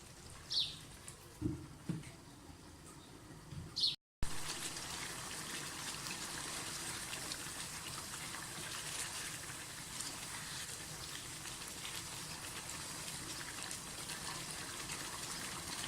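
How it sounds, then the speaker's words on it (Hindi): Water poured into a simmering pot of Kashmiri chicken qorma gives a steady, broadband gushing hiss that fills most of the clip after a brief break, with a couple of faint bird chirps near the start. "अब इसमें पानी डाल दूँगी"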